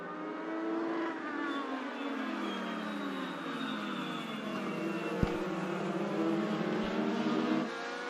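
Thursday Thunder Chargers race cars roar around a track in a dense pack, their engines droning loud and continuous with overlapping pitch sweeps as they run two-wide into turn one.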